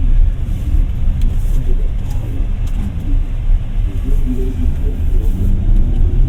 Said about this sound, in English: The ride is very comfortable, and we're now riding on this brick road.